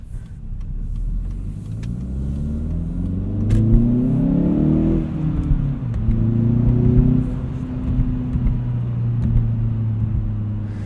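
2016 Hyundai Veloster Turbo Rally Edition with a short shifter accelerating hard, its engine revving up through the gears with a pitch drop at each shift, a steady loud drone heard from inside the cabin, with no talking.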